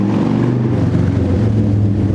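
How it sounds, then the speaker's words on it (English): A neighbor's motorbike passes close by, its steady engine drone loud and continuous for the whole stretch, with no talking over it. "Yeah, that was my neighbor's bike."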